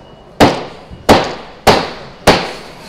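A hammer strikes laminate floor planks four times at a steady pace, knocking them into place. The blows are loud, sharp and close, each with a short decay and no talk over them.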